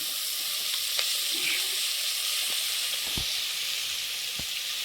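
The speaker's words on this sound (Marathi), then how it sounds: "हे बघा आता तेल टाकत आहो" Oil poured into a hot pan hisses in a steady, loud, unbroken sizzle while khichdi is cooked at a hotel kitchen, with a few faint clicks and knocks beneath, no voices.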